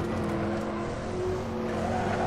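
Tires of a Mercedes Sauber C9 race car squeal through a slide in Assetto Corsa, a sustained loud screech over the constant engine drone, with no talk.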